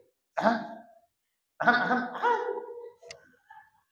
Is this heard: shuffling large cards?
no